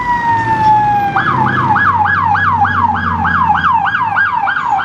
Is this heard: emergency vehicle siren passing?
yes